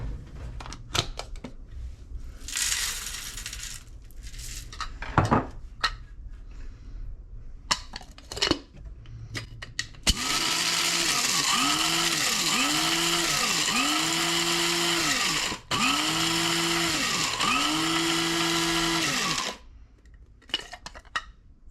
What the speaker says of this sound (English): It's fine just to grind it with any grinder that you have.